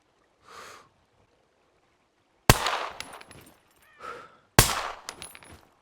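Two sharp, loud gunshots from SCUM crack about two seconds apart, each followed by a ringing decay, with faint brief sounds before each shot.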